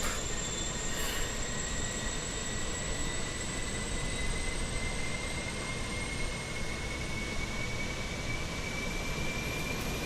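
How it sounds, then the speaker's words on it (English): An airliner's auxiliary power unit exhaust spools up as a steady, broad roar with a slowly rising high whine layered on top, constant and fairly close, with no voices. "The APU exhaust starting up."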